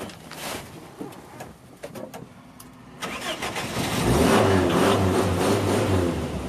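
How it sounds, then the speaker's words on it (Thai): A sports car engine cranks over, catches, and settles into a deep, steady rumbling idle that grows louder and fuller after starting. "เดี๋ยวสตาร์ทให้ฟัง อืมสปอร์ต รถสปอร์ต"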